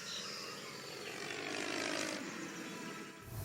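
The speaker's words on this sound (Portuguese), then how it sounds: "Outro avião caindo." A propeller airplane passes overhead in a scene from the TV show LOST, a droning engine that swells to a peak at mid-pass and fades out, with no voices.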